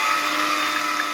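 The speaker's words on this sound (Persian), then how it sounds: "3 دانه تخم را با میکسر 2 دقیقه لد میزنیم." An electric hand mixer beats three eggs for a peach roll cake, a steady, close, high-pitched motor whir running unbroken through the short clip with no talking.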